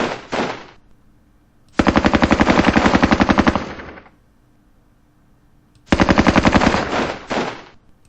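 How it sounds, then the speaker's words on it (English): Loud, close machine-gun fire in a Winter War video game battle at Terijoki: a short burst, then two long rapid bursts separated by brief pauses, with no talking. "it's time to use up the machine gun"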